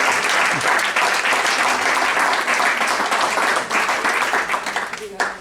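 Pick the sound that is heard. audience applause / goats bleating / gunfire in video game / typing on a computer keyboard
audience applause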